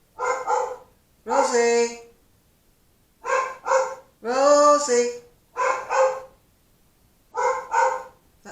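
A dog barks indoors in repeated bursts, sharp yaps and longer yowling barks spread across several seconds, loud and close, with a woman calling out between them.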